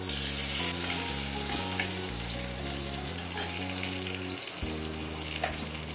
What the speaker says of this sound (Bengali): তেলের মধ্যে আমি কালো জিরে একটু রেখেছিলাম, কালো জিরে আর চেরা কাঁচা লঙ্কাটা দিয়ে দিলাম।